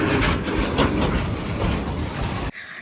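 A train rolls past close by in the open countryside, a loud, steady rumble and clatter of wagons that continues for about two and a half seconds before cutting off abruptly.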